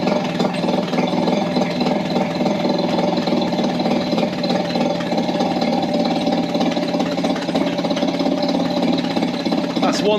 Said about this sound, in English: That's one healthy little engine.